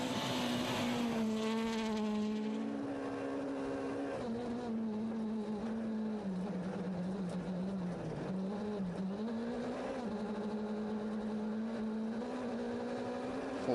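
Skoda rally car driven by Jaromir Tarabus at full throttle on a flat, open, fast stage of the Cyprus Rally, a loud continuous engine note rising and falling through gear changes, near and steady throughout.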